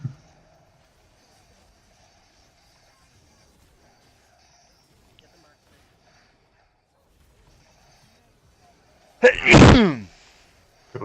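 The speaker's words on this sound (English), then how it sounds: "I sneezed during the best part." A single loud, close sneeze bursts out near the end after a long stretch of near silence, during an online coaching session for a Karma mid game.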